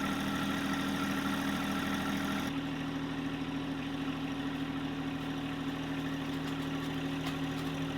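A tractor engine runs steadily under load while pulling out an old shed, a constant low, throbbing drone with a faint knock, its tone shifting slightly partway through and holding throughout.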